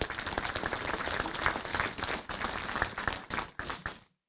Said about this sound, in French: Je crois qu'on peut aussi applaudir cette belle réussite.